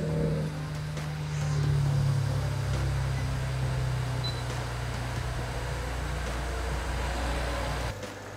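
A BMW engine, a 2003-or-newer model just fitted with new ignition coils, fires up and settles into a steady, smooth idle hum that holds close and even before cutting off near the end.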